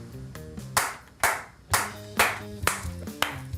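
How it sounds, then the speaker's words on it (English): Hands clapping loudly in an office, sharp, close claps struck at an uneven pace over a sustained musical tone. "yelling and screaming at the top of their lungs and clapping their hands like a maniac"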